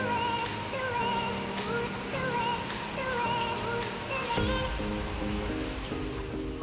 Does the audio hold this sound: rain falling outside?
yes